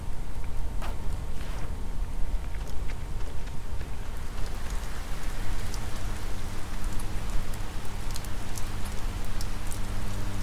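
Steady rainstorm in the video game Oxenfree, a dense continuous patter of rain on surfaces with scattered brighter drop hits, moderately loud and alone, with a faint low hum underneath.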